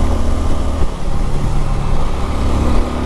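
Bajaj Avenger 220 BS6 cruiser motorcycle exhaust note, a steady deep rumble held loud and close for a few seconds with a brief dip near one second, then continuing evenly.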